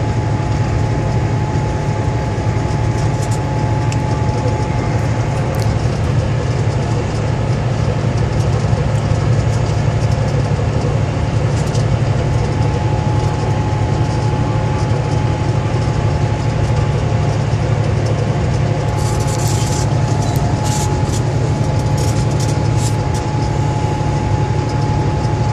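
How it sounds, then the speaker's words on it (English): A long train passing near a truck in Montana, a loud, steady rumbling drone with a constant low hum lasting throughout, heard from inside the truck cab, no voices. "As you can see right now, it's gonna be a train. It's probably going to be a long train."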